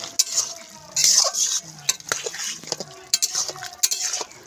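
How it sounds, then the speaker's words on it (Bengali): Mixed vegetable curry being stirred in a pan on a home stove, a steady series of close metal scrapes and clinks from a spoon against the pan, irregular in rhythm, with a faint sizzle beneath. "একটু নাড়াচাড়া দিয়ে দেব"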